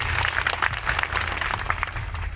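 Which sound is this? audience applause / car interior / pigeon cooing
audience applause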